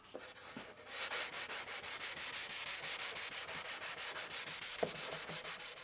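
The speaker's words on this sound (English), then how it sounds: "the rest can just be done with some sandpaper, or what I like to use, which is just sanding block" Sanding block rubbed back and forth over a rounded-over MDF edge, a steady rhythmic series of close, even scratchy strokes, about four per second, with a couple of small knocks.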